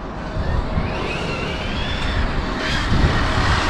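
An Arrma Infraction 6S RC car drives past with a loud, high-pitched electric motor whine that rises and falls, close by and continuous, over outdoor road noise without any talk.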